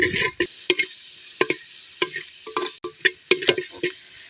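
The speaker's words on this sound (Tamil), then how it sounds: "பொன்னேரமாக வறுத்து எடுத்துக்கலாம்." Cashews roasting in a pan for urad dal porridge, with a steady low sizzle broken by repeated sharp scrapes and clicks of a spoon stirring against the pan, close and fairly loud, no talking.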